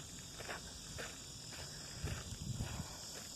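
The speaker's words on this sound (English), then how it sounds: "I think that's like a cicada that you're hearing right now" Cicadas buzz outdoors around a large abandoned state hospital building, a steady high-pitched drone continuing throughout, with faint low thumps like footsteps underneath.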